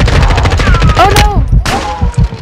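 Rapid gunfire in Call of Duty Modern Warfare 2 Warzone, loud close bursts of shots mixed with excited players' voices over game audio.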